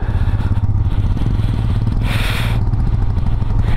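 A motorcycle struggles and slides on a snowy mountain road leaving Umling La in Ladakh during a snowstorm. Its steady, close engine drone runs throughout, with a brief hissing scrape midway.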